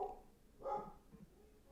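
A dog barks once indoors, a single muffled bark at moderate distance followed by faint softer yips.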